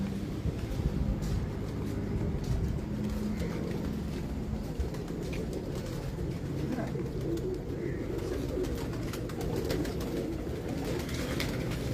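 Flock of pigeons cooing among rooftops, a steady low murmur of overlapping coos under outdoor background noise, with faint distant voices.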